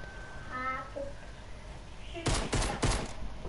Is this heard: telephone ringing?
no